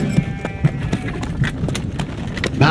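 Horses galloping in the strategy game Stronghold 2, with steady clip-clop hoofbeats in a quick, repeating rhythm and an occasional whinny, close and fairly loud.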